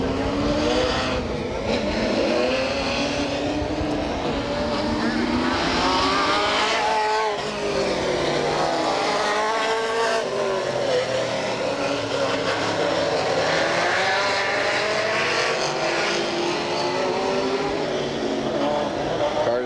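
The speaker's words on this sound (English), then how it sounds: "Cars taking their warm-up lap." Race cars roar around a speedway on their warm-up lap, engines rising and falling in a continuous loud, overlapping drone as they pass at varying distances, with no voices.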